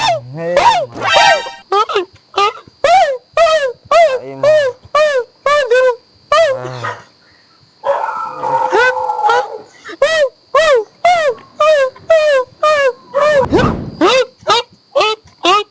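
A dog near the microphone barks and howls over and over in a fast, regular series of loud yelps and wails, with a short gap partway through and some shuffling near the end.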